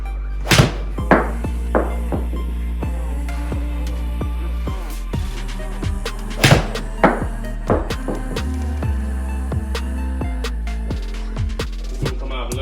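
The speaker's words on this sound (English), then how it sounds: "I've got an 8 iron here. Just going to talk about my technique and just hit some full shots." An 8 iron strikes a series of full golf shots, each a sharp, loud crack followed by a quieter pause, repeated at irregular intervals over a steady outdoor background.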